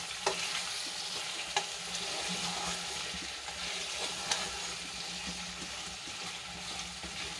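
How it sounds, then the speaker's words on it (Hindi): Potato slices fry with cumin seeds in a pan, giving a soft, continuous sizzle with occasional scraping and stirring knocks, heard close but at low volume with no talking. "आलू को अच्छी तरह से मैं फ्राई कर लूँगी।"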